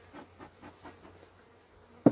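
Honeybees buzzing around a beehive at a hi-tech community apiary, a soft pulsing hum close by that is faint and steady, ending in a short sharp knock.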